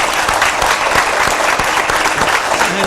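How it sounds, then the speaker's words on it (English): A studio audience at a family court television show gives a round of applause, a loud, continuous wash of many hands clapping with no talk over it. "I need to give her a round of applause."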